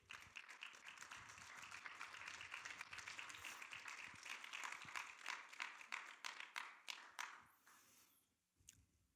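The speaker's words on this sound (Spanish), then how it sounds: "Dale un aplauso al Señor." A church congregation gives a round of applause to the Lord, dense clapping that swells and holds for several seconds before thinning out into a few scattered claps and fading to quiet near the end.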